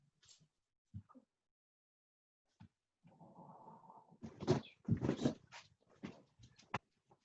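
A dog whimpers softly indoors, a thin drawn-out whine followed by a few louder, choppy yelps and snuffling sounds, quiet and close with no talk.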